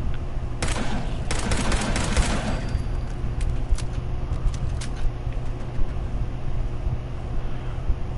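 Gunfire in the video game Fallout 4, with a dense burst of rapid shots early on, then scattered sharper cracks over a steady low rumble of background noise.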